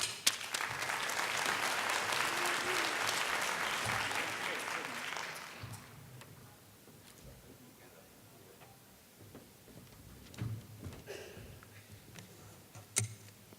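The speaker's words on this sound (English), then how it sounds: "Let's give him a round of applause." An audience at a panel on post-prohibition cannabis policy in Colorado and Washington claps steadily for around five seconds, then the applause fades into room quiet with a few scattered clicks and brief speech.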